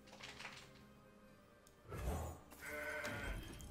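A goat bleat from the Mountain Goat card in the video game Legends of Runeterra, a short nasal bleating call sounding twice in quick succession over quiet game ambience.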